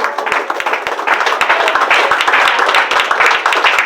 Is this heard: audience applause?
yes